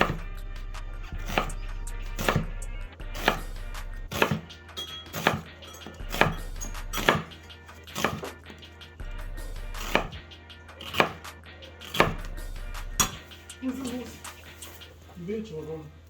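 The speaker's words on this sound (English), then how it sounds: "So we need to cut the onion" A knife chops an onion on a board for aguachile in Mexico City. Steady, evenly spaced thuds repeat about every second over a low background hum, and a faint voice is heard near the end.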